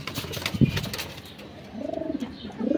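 Domestic pigeons coo in a home loft, a couple of soft, low, rolling coos rising and falling close by, with faint background rustle and no talking.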